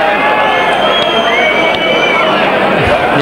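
A football stadium crowd at a 1987 Hertha BSC versus Tennis Borussia match whistles in disapproval, a dense, continuous wash of shrill whistling over loud crowd noise throughout.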